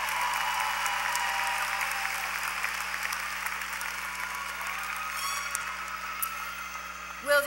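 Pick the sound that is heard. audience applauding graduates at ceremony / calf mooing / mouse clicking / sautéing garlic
audience applauding graduates at ceremony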